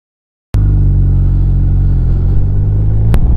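A 2020 BMW R1250RS motorcycle is ridden, its engine cutting in abruptly after a short silence and holding a loud, steady low rumble, with a sharp click near the end.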